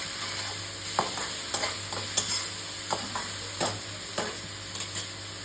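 Onions frying in a pan for dal tadka, with a steady sizzle and a spatula scraping and tapping through them in irregular strokes about every second, close and clear with no talking.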